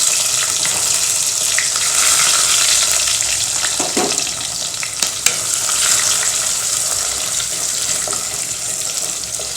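Onions with mustard seeds, cumin, fenugreek and curry leaves sauté in hot oil for a papad curry, a steady close sizzling hiss with a few scraping stirs.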